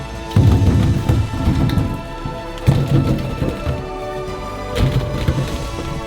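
Tap water runs into a kitchen sink holding oranges for washing, coming in irregular splashing bursts with pauses, fairly close and alone without talk.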